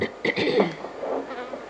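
Honey bees swarm and buzz at an opened beehive after smoke has been puffed down onto the frames, a dense close drone with louder passing bees and no voices.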